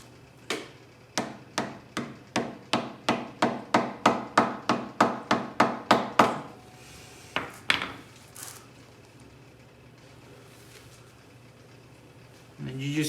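A transmission adapter plate for a 2JZ swap into a G35 is driven into place with about seventeen steady, evenly spaced metallic hammer blows, followed by a few slower, scattered knocks and then quiet handling noise.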